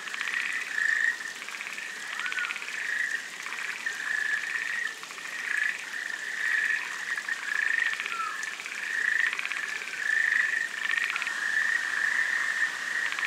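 An Otton frog, Amami Island's largest frog at about 14 cm, calls during egg-laying season in Japan, giving steady repeated croaks that overlap near and far over a soft wash of running water.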